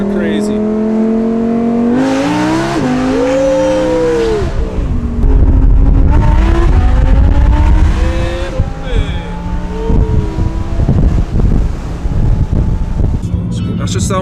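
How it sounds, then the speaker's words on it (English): A straight-piped Audi R8 V10 echoes through a tunnel, revving hard and then downshifting with rising and falling engine pitch and sharp crackles, very loud and close throughout. "Downshifts are crazy."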